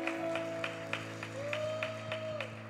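A church congregation claps hands in a steady rhythmic beat during a worship service, the claps soft and distant under sustained instrumental music.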